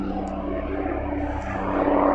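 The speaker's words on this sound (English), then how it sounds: "So you hear a helicopter above" A helicopter passes overhead in an outdoor cemetery in Bristol, its engine a steady, moderately loud drone that grows slightly louder toward the end, with no talking.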